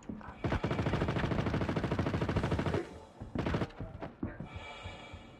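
Bursts of machine-gun fire in the Star Citizen space game: a long rapid volley of loud, evenly spaced shots, then a shorter burst and a few scattered clanks and thuds.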